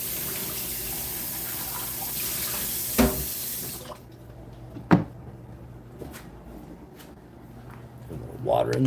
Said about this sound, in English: A little water in that cup.